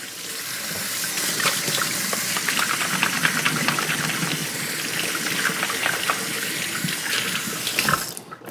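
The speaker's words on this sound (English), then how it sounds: "I'm gonna wash my hands real fast" Tap water runs steadily into a kitchen sink while hands are washed clean of carne asada marinade, a continuous close splashing gush lasting throughout with no talking.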